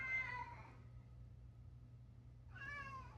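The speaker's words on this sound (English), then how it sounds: "If you hear yowling in the background, I have cats." Cats in a home, meowing and yowling: two drawn-out, wavering cries, one at the start and one near the end with quiet between them, fairly faint and a bit distant, with no talk over them.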